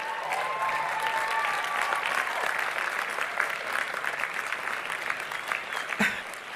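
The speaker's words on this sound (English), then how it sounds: "I'd like the class of 2022 to give yourselves an applause" Graduating class of 2022 applauding themselves at a University of Puget Sound commencement, a sustained, dense wash of clapping from a large crowd that holds steady throughout, with a few faint voices and a brief thump near the end.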